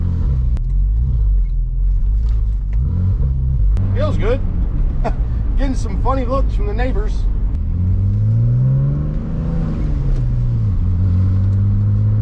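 A stripped-down yellow Porsche 996 Turbo, missing half its body panels, drives along with its engine revving and rising and falling in pitch, loud and close, while people talk over it.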